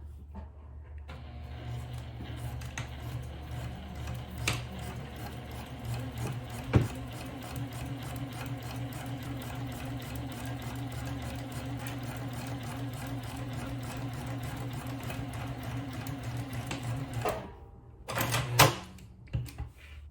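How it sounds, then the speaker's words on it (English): A sewing machine stitches a zipper onto fabric for a mini purse, its motor humming steadily with a rapid mechanical chatter for a long stretch, moderately quiet, ending with a few clunks as it stops. "We're here in the sewing machine, and I'm going to start to sew"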